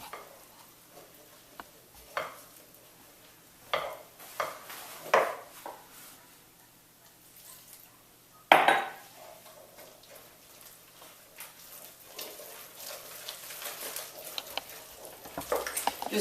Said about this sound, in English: You stir it all up.